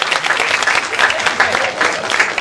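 Audience applause at a charity auction, a dense steady clapping that fills the room evenly from start to finish, with no talk over it.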